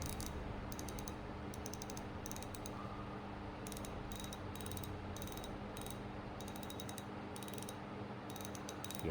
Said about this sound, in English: The drag clicker is not very loud.